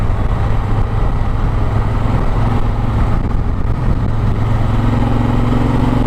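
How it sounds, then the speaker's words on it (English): A Honda Africa Twin motorcycle with its stock exhaust pipe runs loud and steady, a close, continuous engine drone with no breaks. "this bike sounds good. And it's got the stock pipe on it, which is actually surprisingly loud"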